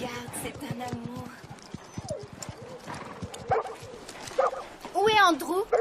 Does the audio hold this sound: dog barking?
yes